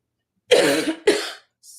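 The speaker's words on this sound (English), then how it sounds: "Sorry, I got a tickle and I still have this cold. Still have this cough." A person with a cold coughs twice in close succession, two harsh, throaty bursts near and fairly loud, followed by a faint short trailing sound.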